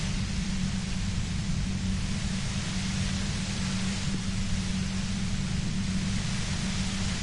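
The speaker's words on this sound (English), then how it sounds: "You hear through the white noise." White noise effect from the video game Disco Elysium: a steady, dense hiss across the whole range over a low rumble, loud and unbroken throughout with no voices.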